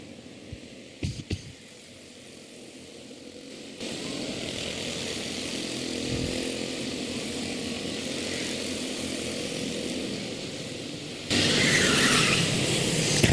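A quarter midget race car engine droning through its 30-second warm-up laps on a racing track, a steady, fairly distant buzz that grows louder near the end, no talking.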